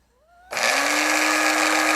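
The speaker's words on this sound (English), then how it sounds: "I'm just gonna place these in the blender" A kitchen blender whirs loudly into action, blending marinade ingredients for chicken tikka masala; a steady, continuous motor roar starts abruptly after a brief quiet lead-in and holds at full level.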